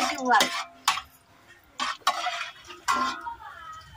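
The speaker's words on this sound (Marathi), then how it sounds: "खिरीमध्ये टाकण्यासाठी काजू तुपामध्ये परतून घेते." Cashew pieces being sautéed in ghee in a pan for kheer, heard as a few separate scraping stirs and metal clinks of a spoon against the pan, with quiet gaps between.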